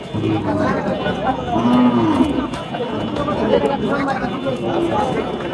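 Cattle at a busy village livestock market in Chapainawabganj, with low calls rising briefly over steady crowd chatter and nearby voices talking throughout.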